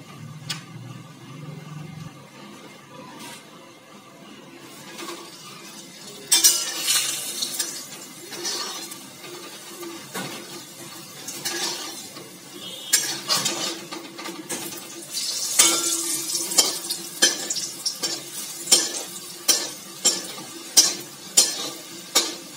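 Dalpuri frying in hot oil while being turned and stirred, a continuous sizzle broken by repeated clinks and scrapes of the utensil, with sharper clatters toward the end and no voices.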